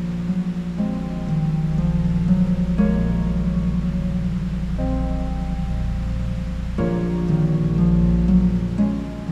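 Steady rain falls without a break, a dense wash of sound running under sustained low tones that swell and shift throughout.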